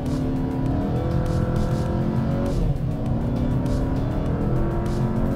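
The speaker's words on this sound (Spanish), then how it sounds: "Ahí suben las revoluciones 4000." Cupra Formentor engine revving hard during launch control acceleration with traction control off, a loud continuous roar whose pitch climbs, dips briefly at a gear change, then rises again, heard close from inside the car.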